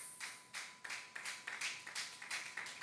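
A church congregation claps in praise, a run of sharp, fairly even claps that begins alone and quickly settles into a steady rhythm, faint and close, with no voices.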